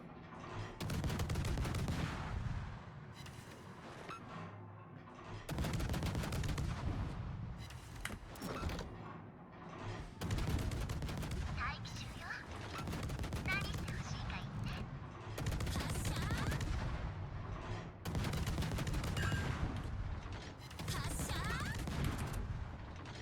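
Ship main guns fire repeatedly during a World of Warships operations battle off Hawaii, with heavy booming salvos in bursts separated by short lulls, loud and close, with occasional talk underneath.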